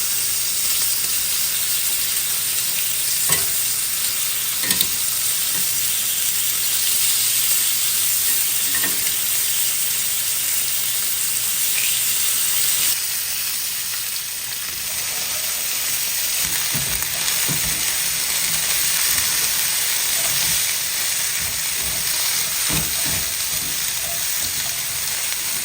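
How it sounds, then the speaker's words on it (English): A steak fries in a hot pan, giving a loud, steady sizzle and hiss throughout, with occasional soft pops and clicks and a slight dip in intensity midway. "I feel like it's a good time to flip my steak"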